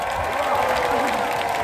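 An outdoor park concert crowd claps and cheers to welcome a singer, a continuous wash of applause and voices at steady loudness.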